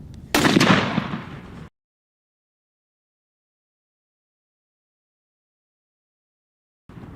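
A single loud, sharp shot from a Mossberg 940 Pro Turkey shotgun with a Trulock choke bursts out and rings briefly, followed by a long stretch of silence.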